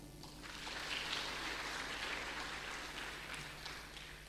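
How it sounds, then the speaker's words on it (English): Audience clapping at a Zetech University ceremony, a steady, fairly quiet wash of hands filling the whole stretch, with no clear voices over it. "Can we give them a clap?"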